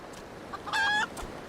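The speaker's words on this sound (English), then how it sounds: "Is that a green chicken? That's a green chicken." A green chicken in the video game Final Fantasy XIV gives a single short, clear cluck-like call amid faint background ambience, with no talking.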